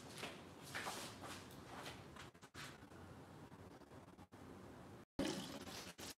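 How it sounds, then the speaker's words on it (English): Hands being washed under running water from a tap in a fluid art workspace, a steady close hiss and splash that breaks off briefly near the end and then comes back louder. "I am just gonna quickly wash my hands up."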